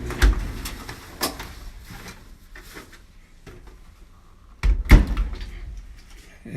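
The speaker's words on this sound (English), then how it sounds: "you just open the door" A General Electric clothes dryer door clunks open with a sharp knock near the start and a louder thump later, amid quiet room sounds and small clicks.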